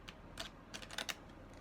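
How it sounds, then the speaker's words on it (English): Large deck of oracle cards being shuffled by hand, a few soft papery riffles and taps in quick bursts, quiet and close with no voices. "Shuffling this deck is not easy because it has a lot of cards."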